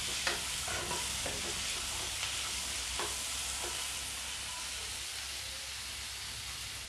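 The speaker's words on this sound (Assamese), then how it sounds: "5-6 মিনিট এনেকুৱা ফ্ৰাই কৰিম বিলাহীখিনি" Tomatoes and masala fry in a pan for restaurant-style chana masala, a constant close hiss and sizzle with a few scraping stirs early on, then settling into steady frying with no talk.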